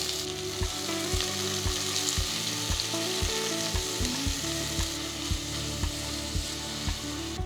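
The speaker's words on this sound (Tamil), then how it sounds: "ரெண்டு சின்ன சைஸ் வெங்காயத்தை ஸ்லைஸ் பண்ணி சேர்க்குறேன்" Sliced onions fry with roasted whole spices in a steady, loud close sizzle, punctuated by rhythmic scraping and tapping as a spatula stirs the pan, with nobody speaking.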